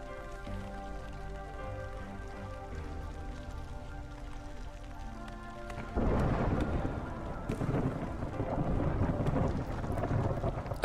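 Thunderstorm in the video game Against the Storm: steady rain hiss under a game music drone, then a loud rolling thunder swell about halfway through with heavy downpour continuing after.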